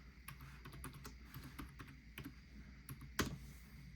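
Keys clatter steadily on a computer keyboard as a password is typed on a Windows-like login screen, a run of close, light clicks with one sharper tap near the end.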